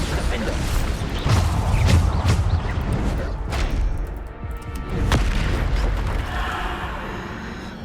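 Spells such as Bombarda cast in the video game Hogwarts Legacy, a string of deep booming blasts and crashing impacts spaced a few seconds apart, loud and close, with a voice speaking between them.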